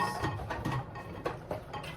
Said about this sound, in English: Washing dishes.